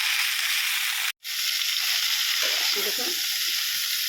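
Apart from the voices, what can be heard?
cauliflower frying and sizzling in oil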